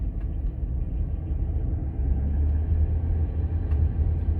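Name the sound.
Range Rover L322 driving at 10 miles an hour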